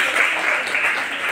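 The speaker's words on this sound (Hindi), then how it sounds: "तो जोरदार तालियां कहते हैं सर के लिए।" An audience bursts into dense, steady applause after a correct answer at a Hindi quiz event, a continuous wash of clapping heard alone.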